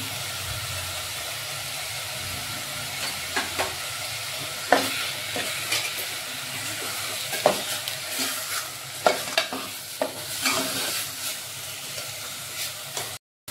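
Chopped onions fry with salt in a pan for pav bhaji, giving a continuous close sizzle with repeated clinks and scrapes as they are stirred. No voices are heard.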